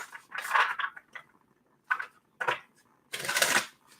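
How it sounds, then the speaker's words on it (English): A deck of tarot cards being shuffled in several short riffling bursts separated by pauses, close and fairly loud, with the last burst the longest. "this is going to be our last shuffle"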